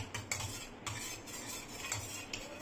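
A spoon stirs buttermilk mixed with water in a vessel, giving a close, steady run of light metallic clinks and scrapes against the sides.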